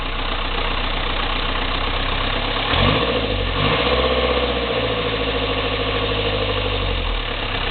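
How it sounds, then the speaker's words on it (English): A rebuilt Land Rover Series 2a engine idles steadily and loudly up close, with a brief rev midway and another swell shortly after before settling back to a rough, knocking idle; no voices. "I'll probably give it a few couple of revs."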